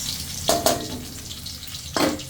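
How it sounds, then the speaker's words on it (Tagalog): Garlic and onion sauté in hot oil in a pan for a Filipino ginataang dish. A steady frying hiss runs throughout, broken by a few sharp bursts as the spatula tosses the pieces. "Gisa-gisa lang natin mga."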